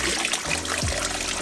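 Liquid water treatment poured into a koi pond, a steady close trickle and splash that runs continuously through the whole short stretch.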